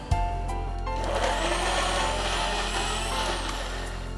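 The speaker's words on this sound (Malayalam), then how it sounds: "ആദ്യം ഒന്ന് ബ്ലെൻഡ് ചെയ്യാം." An electric blender whirs loudly and steadily while blending jackfruit for a milkshake, starting with a short clatter and a rising motor whine that settles into a constant high-pitched drone.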